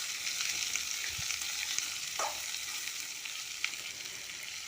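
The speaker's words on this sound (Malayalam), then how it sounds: "അതിനുശേഷം വലിയ ഉള്ളി അരിഞ്ഞ് വെച്ചത് ഇടുക. അത് നന്നായി ഇളക്കി കൊടുത്തതിന് ശേഷം" Chopped big onions sizzle steadily in hot oil after mustard seeds are popped, with a few soft stirring scrapes over a continuous faint frying hiss.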